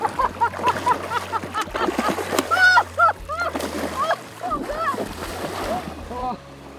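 A big Chinook salmon is hauled in on the Hasselberg in Alaska, its splashing and thrashing water heard up close amid excited voices and background noise.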